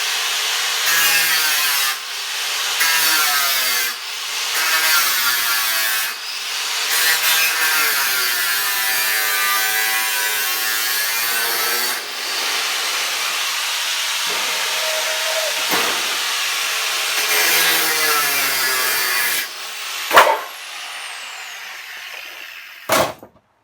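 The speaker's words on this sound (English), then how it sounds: "just need to cut a bit more steel here for the side" Steel side panel cut for a narrowboat build, a long continuous harsh grinding rasp with short pauses and repeated strokes, close and loud, ending in a couple of sharp clanks.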